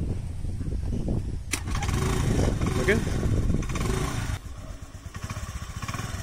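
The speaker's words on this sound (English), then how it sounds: "You can hear the sound of the engine." A small petrol engine on a hybrid-converted scooter cranks and catches, then runs at a rough, pulsing idle nearby; a voice speaks briefly.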